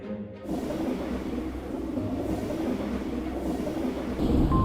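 A moving passenger train rumbles steadily from inside a carriage, a low continuous roll with faint rhythmic wheel clatter, growing slightly louder near the end.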